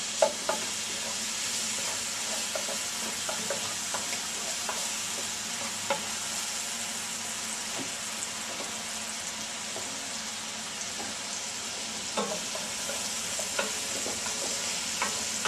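Chopped onions sweating in a pan with meat pieces for an old-style chicken fricassee, giving a steady soft sizzle throughout, with light scraping clicks from stirring scattered across the clip.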